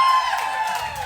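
Audience at a live podcast show cheering and clapping, a loud crowd roar with whoops that starts strong and gradually eases over about a second.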